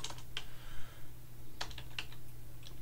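Typing code on a computer keyboard while programming in Greenfoot: a few short bursts of quiet clicking keystrokes separated by pauses, over a faint steady hum, no talking.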